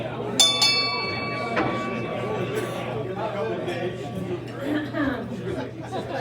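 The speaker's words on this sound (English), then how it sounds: "Ring the bell." A bell rings out clearly at a meeting with two quick strikes and a lingering tone, amid chatter and light laughter from a room of people.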